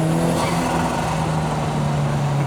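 A 1983 Lotus Esprit's turbocharged engine pulls hard under acceleration, a steady loud drone with rising harmonics and a faint whine, close and continuous with no talk.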